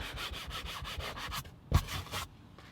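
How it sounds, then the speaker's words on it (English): A bristle brush loaded with cleaner scrubs a car headliner in quick, even back-and-forth strokes. The rubbing is soft and close, pauses briefly with a light knock, then gives a few final strokes. "Spray directly into the bristle brush with your cleaner, and then lightly agitate it into the area that needs cleaning."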